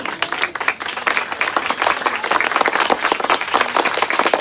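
A congregation at a Hindi-Urdu church sermon claps together in steady, dense applause, filling the room evenly from start to finish.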